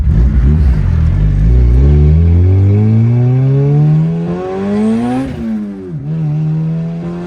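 A stock Honda Integra Type R fitted with a Spoon N1 exhaust revs hard, its engine note climbing steadily to a high pitch, briefly dropping and rising again as it bounces near the rev limiter, loud and close with no talking.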